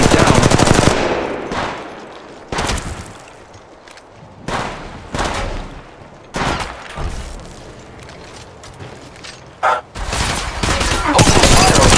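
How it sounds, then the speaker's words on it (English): Bursts of automatic gunfire and rapid shots from a mobile battle royale shooter, Apex Legends Mobile, come in several loud volleys separated by quieter stretches, with game voice callouts heard between the firing. "Open fire on the enemy. The enemies are shooting at me."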